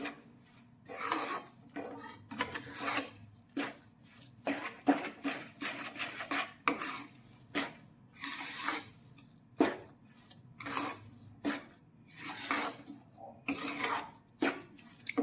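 A spoon or spatula scraping and knocking inside a pan as jaggery is stirred into flour with the gas flame switched off, making repeated rhythmic metallic scrapes and taps, close and clear with no voices.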